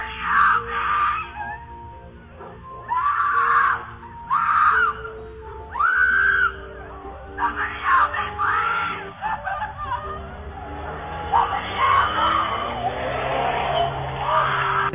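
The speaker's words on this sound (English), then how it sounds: "a woman was heard screaming, "Help me, somebody help me," in a car that was speeding down the neighborhood" A woman screams for help from inside a speeding car passing through a residential neighborhood, with high harsh cries rising in bursts over the noisy rush of the moving vehicle and tire sounds.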